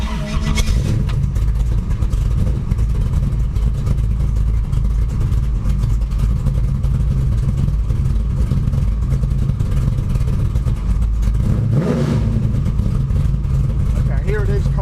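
A cold car engine idles steadily under 1,000 RPM with a low, continuous rumble, and a voice talks over it briefly.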